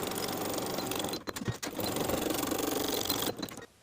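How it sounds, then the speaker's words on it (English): A sewing machine stitches the shoulder seams of a satin blouse in fast, steady runs, briefly pausing with a few clicks before resuming. "Sew both shoulders at a 3/8 inch seam allowance and press the seams open."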